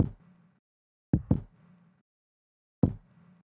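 A kick drum in a music production sounds alone: a single thump, then a quick double hit, then one more after a pause. Each hit is punchy and short and ends in a low, fading boom.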